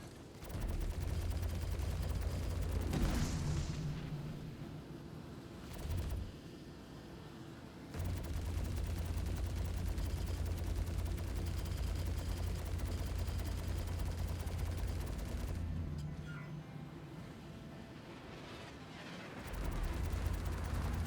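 Sustained spaceship gunfire from a crowd of enemy gunners on a Hammerhead in a Star Citizen space battle, a loud continuous rumbling barrage with brief lulls and bursts, no talk.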